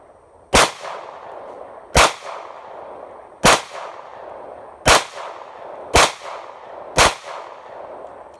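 Six sharp gunshots fired at a target outdoors, evenly spaced about a second or so apart, each a loud crack with a short echoing tail and no talking between them.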